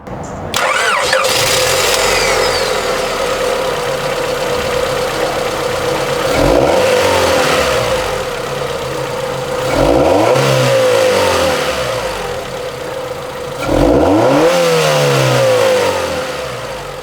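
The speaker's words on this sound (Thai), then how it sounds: "มาฟังเสียงเครื่องยนต์กัน" A 1990s Honda Prelude BA8 engine starts and idles, then revs sharply three times in evenly spaced bursts, each climbing and falling back, close and loud.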